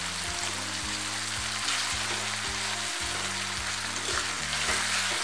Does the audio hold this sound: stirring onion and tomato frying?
yes